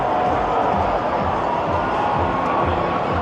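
Toronto Maple Leafs fans outside Scotiabank Arena at Maple Leaf Square, thousands gathered, heard as a steady, distant crowd roar and cheering with scattered voices mixed in.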